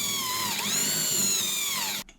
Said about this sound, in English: So I just need to drill some holes that are big enough for that screw there.